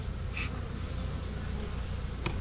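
A steady drone of honeybees buzzing up close at a farm apiary, constant and fairly loud, with no voices.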